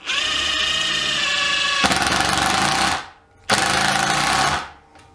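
DeWalt DCF801 12V brushless impact driver driving a screw into wood: a steady motor whine, then a loud rapid hammering rattle that cuts off, and a second burst of hammering that stops abruptly, close up with no talk.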